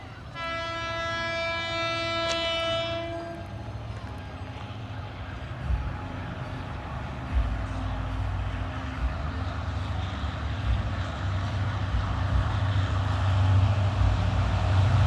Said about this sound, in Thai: วันนี้ใช้หัวรถจักร4518นะครับ